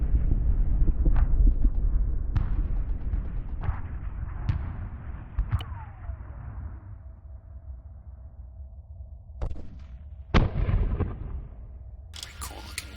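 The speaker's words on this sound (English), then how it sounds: "Next weapon is the MP18." MP18 submachine gun in a WWII mod for the video game Arma 3, fired in spaced single shots and short bursts with booming low reports and echoing tails, growing sparser toward the end, with an open-field background.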